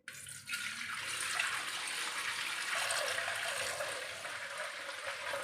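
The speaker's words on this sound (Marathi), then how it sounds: "छान हळूवारपणे परत आपल्याला वरचं पाणी काढून घ्यायचं आहे." Soaking water being tipped off wheat grain in a pot, a steady, close splashing pour that runs without pause for several seconds, with no voices.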